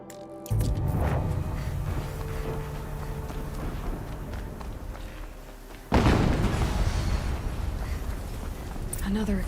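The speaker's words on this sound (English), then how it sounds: "Another explosion." Two explosions in the Horizon Zero Dawn Remastered video game, each a heavy, loud boom followed by a rumbling roar that fades. Talk runs under them.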